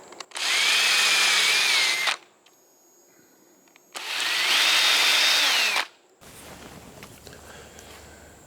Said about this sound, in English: And we'll drill some here.